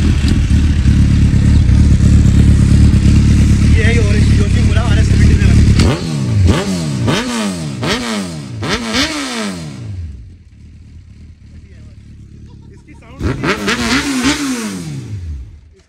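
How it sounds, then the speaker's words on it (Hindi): A used superbike engine idles with a heavy rumble, then fires off a series of sharp rising-and-falling revs, goes quiet, and blasts a few more revs; voices talk over parts of it. "कमेंट करके जरूर बताना कौन सी बाइक की ज्यादा आवाज तेज लगी है"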